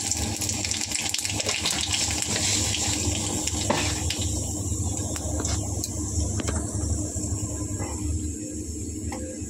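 Whole chillies and nigella seeds sizzle in hot oil, a loud, dense, continuous crackling hiss that stays steady throughout, close up, with no voices.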